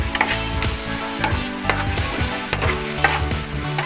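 Pansit bihon rice noodles stir-fry with oyster sauce in a hot pan, giving a continuous close sizzle broken by regular clattering tosses and scrapes of the utensil, no voices.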